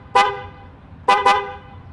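Dual 400 Hz and 500 Hz horn on a Triumph Speed Twin motorcycle sounds one loud, close blast, then a pause and two quick blasts in a row, with no talking.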